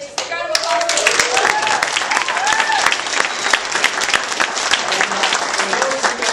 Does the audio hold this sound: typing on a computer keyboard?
no